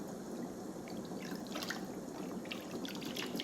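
Soft, close water trickling and gentle dripping in a bath, with small splashes and sloshes over a constant low wash of water.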